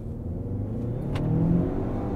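Lincoln Corsair compact luxury SUV engine pulling hard in a steady rolling launch, a continuous mid-pitched drone that swells slightly toward the end, heard from inside the cabin with no talking.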